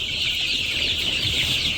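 A flock of village chickens clucking while being fed, a dense, continuous chatter of many birds at close range, steady and fairly loud throughout, with no speech.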